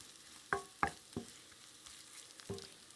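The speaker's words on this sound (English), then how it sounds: "Now I'm going to stir these around with the onions and just sort of get them warmed up so that they're releasing their oils" A spoon scrapes and stirs spices and onions frying in a pan for masala rice, a few distinct knocking strokes over a soft, steady sizzle.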